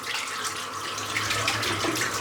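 Water runs steadily from a sink tap into a basin while lather is built with warm water, a continuous close splashing rush with no pauses.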